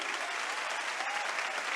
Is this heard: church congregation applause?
yes